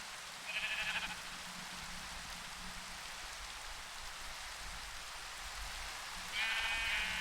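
Two short, faint sheep bleats sound in Minecraft, one near the start and one near the end, over a steady hiss of rain.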